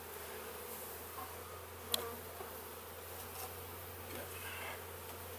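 Honey bees hum steadily around a beehive, a close, even buzzing drone with a brief knock partway through, and a single short spoken word.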